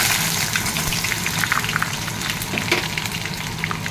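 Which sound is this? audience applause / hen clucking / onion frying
onion frying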